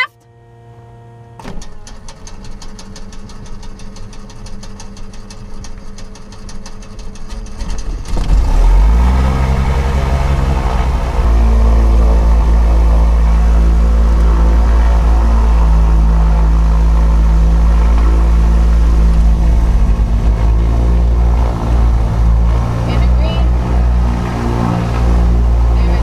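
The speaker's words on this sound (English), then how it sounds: "Both engines started up real nice." Twin-engine turbocharged small aircraft starting up: a whirring starter and sputter, then engines catch and settle into a loud, steady low drone that fills the rest of the run.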